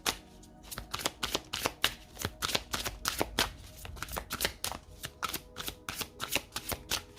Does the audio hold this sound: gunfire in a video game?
no